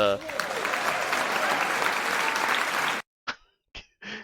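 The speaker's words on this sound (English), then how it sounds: "gives them a slight round of applause like you ask for" Applause from a wrestling show audience, a fairly full round close by that carries steadily for about three seconds and then cuts off, followed by a few brief voices in the quiet.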